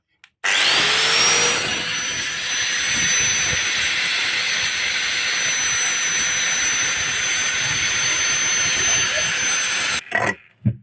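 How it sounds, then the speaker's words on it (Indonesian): An electric angle grinder spins up with a rising whine and runs at a loud, steady high-pitched drone for about ten seconds, then cuts off and winds down, with brief clatter afterward. "Kita nyalakan lagi gerinda, apakah masih kuat?"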